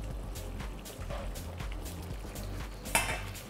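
A pan of salsa for octopus spaghetti being stirred, soft bubbling and liquid movement with light utensil scrapes and a brief louder clink near the end, close and fairly quiet.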